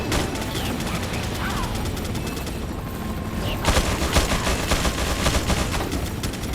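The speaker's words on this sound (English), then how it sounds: "As soon as some of the gunfire stops." Gunfire rattles in Resident Evil 4 (2005) as dense, continuous automatic bursts, loud and close, swelling in the second half.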